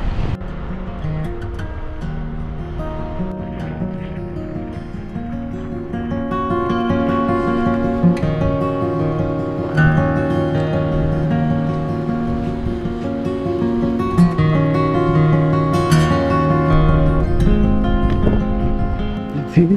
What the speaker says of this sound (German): gucken dir die Wellen an. Das ist schon echt arg windig.